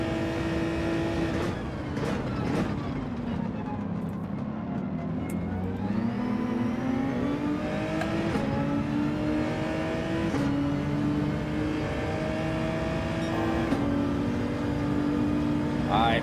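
A race car engine in Gran Turismo 7 on soft tyres, revving up through the gears with rising whine, each shift cutting in before the pitch climbs again, steady and close, while someone talks over it.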